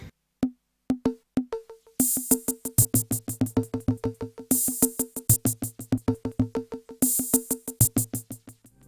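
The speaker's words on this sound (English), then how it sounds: "I use the built-in stutter effect to create like an echo to make it a bit more exciting" A quick Korg Volca Beats drum pattern of kicks and clicky hits, with its built-in stutter effect making repeated bursts that echo in rapid rolls, loud and up close with no voices.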